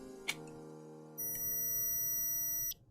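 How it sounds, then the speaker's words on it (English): A Digimon X virtual pet toy powering on after its battery tab is pulled, giving a short sharp electronic beep, then a sustained steady tone that holds for over a second before cutting off; no voices. "Pull out that tab, get that beep."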